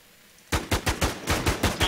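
Video game gunfire aimed at an enemy: a sudden, loud, close burst of about eight rapid evenly spaced shots that keeps firing to the end.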